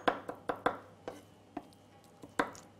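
A knife chops tuna belly and spring onion on a board for negitoro, making about ten sharp, close taps in an uneven rhythm, fairly quiet with no talk.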